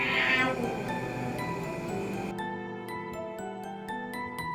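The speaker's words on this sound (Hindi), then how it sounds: "बाहर अचानक से एक बिल्ली चिल्ला रही थी।" A cat yowls loudly and drawn-out outside at 3 a.m. near the start, then a background of tinkling chimes and music carries on without it.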